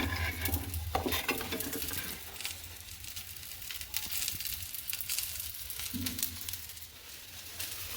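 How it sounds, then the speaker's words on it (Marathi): Onion roasting in oil in a pan on a gas stove for misal, a soft crackling sizzle with light patter and occasional stirring, fairly quiet and steady. "कांदा भाजून घ्यायचा."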